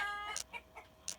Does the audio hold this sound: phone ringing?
no